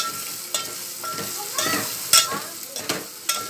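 Eggs being mixed in a bowl, with a steady scraping stir and several sharp clinks of the utensil against the bowl, close and alone.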